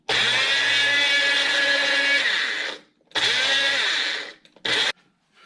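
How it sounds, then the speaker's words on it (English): A loud, close Magic Bullet blender mixing a slushy roars for a few seconds, stops, then runs again in a shorter burst and a quick final pulse. "Bring in our magic bullet blender."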